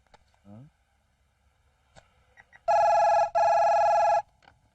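A telephone rings loudly twice in long electronic bursts, with a short gap between, after a few quiet moments and a brief voice.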